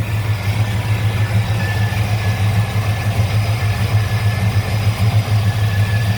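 A 1966 Chevrolet Chevelle SS with a 454 V8 rated at 438 hp runs at a steady idle, a loud, close, deep rumble holding evenly throughout with no voices.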